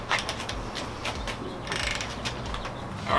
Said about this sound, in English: So the last step is to torque it down to 30 foot-pounds.